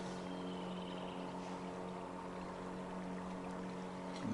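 A Mercury 18 horsepower outboard motor runs at a steady idle on a boat during a spring trip, giving an even, continuous drone that stays level from start to finish with no talking.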